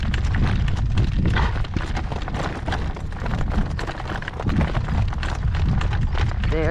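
A driven horse's hooves clip-clop in a steady gait, nearly buried under loud, constant gusting wind from a gale-force storm.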